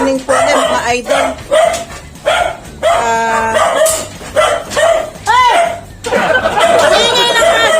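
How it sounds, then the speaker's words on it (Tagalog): A woolly puppy barks and yips repeatedly in short bursts, close by, with people talking in Filipino over and between the barks. "Ingay ng aso!"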